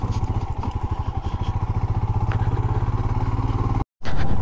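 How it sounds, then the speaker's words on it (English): A motorcycle riding off-road over very bad roads, its engine thumping in a steady rapid pulse with rattling over bumps, close and loud, briefly cut off near the end. "Nice off-roading to my bike."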